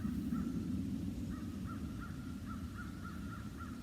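A crow caws repeatedly outdoors, a steady series of about eight harsh calls at a distance over a constant low rumble of background noise.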